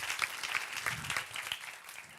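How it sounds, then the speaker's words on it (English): Brief burst of audience applause for a speaker at a social business conference, a short patter of clapping at moderate loudness, no speech over it. "Ayman, a big applause and thank you for joining us."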